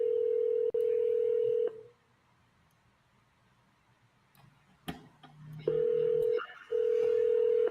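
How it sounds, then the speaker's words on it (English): Phone line tones during cold calling: a steady dial tone, a pause with faint clicks, then the tone returning with short breaks as a number is dialed. "pick up the phone and start dialing"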